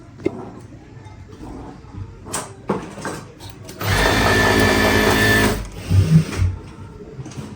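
A sewing machine stitches partywear dresses in a busy tailoring unit, running in one steady, loud, close burst of about two seconds. Scattered clinks and handling noises come before and after the burst.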